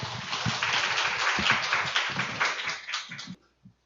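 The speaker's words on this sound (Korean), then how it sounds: "그럼 발제자를 큰 박수로 모셔보도록 하겠습니다." Audience at a political organization's meeting applauds to welcome a presenter, a full round of clapping from many people that holds steady, then thins to a few last claps and stops.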